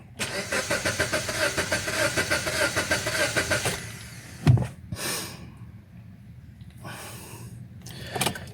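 A Hyundai i30 with a suspected fuel pump fault cranks for about four seconds, the starter churning in a rapid, even pulse without the engine catching, followed by a few quieter knocks and shuffling sounds nearby.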